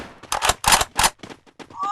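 Several sharp bursts of video game gunfire crack in quick succession, loud and close, with brief gaps between shots.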